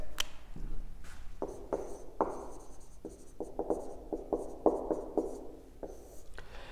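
Pen strokes scratch across paper while a graph of x against t is sketched, a close, quiet series of short scribbles and longer drawn lines with brief pauses between them.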